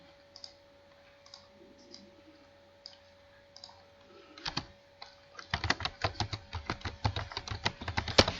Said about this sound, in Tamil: என்னோட பேரை டைப் பண்ணியிருக்கேன்